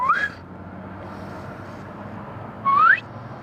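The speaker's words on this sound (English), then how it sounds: "A whistle." Two short rising whistles ring out at a bridge at night, one at the start and one nearly three seconds later. Each is clear and fairly close, over a low steady background hum.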